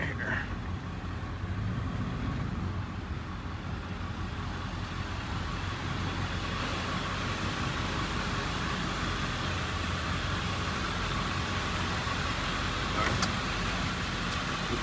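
A pickup truck, likely a diesel, pulls in and settles into a steady idle, its low engine rumble continuous and fairly close, with a voice talking over it throughout.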